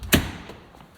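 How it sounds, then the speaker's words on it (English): A door shuts with a single solid thud near the start, close and fairly loud, followed by quiet room tone in a home workshop. "Shut the door."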